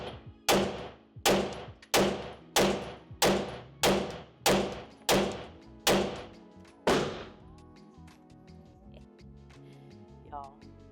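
M&P 2.0 Metal pistol firing 115 grain rounds, nine sharp shots in a steady rhythm about every seven-tenths of a second, each ringing briefly, then quiet range ambience.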